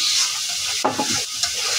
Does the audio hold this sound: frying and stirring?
yes